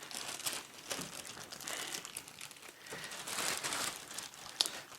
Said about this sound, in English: gently remove this from the plastic bag